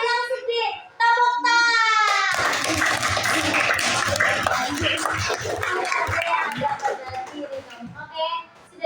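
A classroom of young children doing a rhythmic group clapping routine, the quick claps mixed with their excited voices chanting along, after a brief spoken teacher cue.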